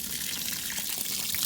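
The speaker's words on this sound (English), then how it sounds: "just drench it, water it in" Water pours steadily onto a pumice soil mix at the bottom of a planting hole for an avocado tree, a continuous close splashing gush.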